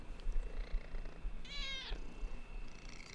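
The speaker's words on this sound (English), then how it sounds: "Listen to his purring." A cat purrs close up in a low, steady pulsing rumble, broken midway by a single short meow.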